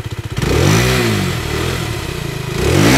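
A 125 cc Aprilia RS4 125 sport motorcycle engine with a small exhaust idles with a chugging pulse, then is revved up loudly, held, and revved again near the end, close by and alone.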